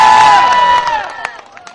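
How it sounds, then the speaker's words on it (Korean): A large crowd cheers and claps loudly at a June 15 Joint Declaration anniversary eve event, then the noise fades within a second or two, leaving scattered claps and voices. "박수 한 번 더 부탁드립니다"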